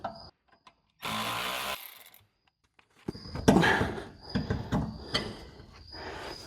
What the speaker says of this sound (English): I'm going to undo these struts, and hopefully that will let us drop the axle even a little bit further